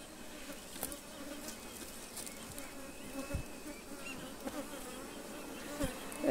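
Bees buzzing around an open hive during handling for propolis production, a steady faint drone with occasional louder passes of individual bees close by, no talk.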